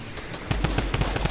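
Gunfire in Fortnite: after a short quiet lead-in, a rapid string of loud shots rattles off at an even, fast rhythm until the end.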